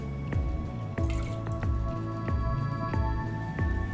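Antica Formula sweet vermouth pours out in a measured one-ounce amount, a close liquid trickle broken by a regular series of dripping plinks about every half second, with no speech.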